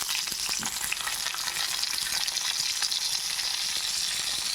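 Capsicum and tomato fry in a pan for a Bengali kohlrabi-paste fish curry, giving a dense, loud, continuous hiss and sizzle with no talking.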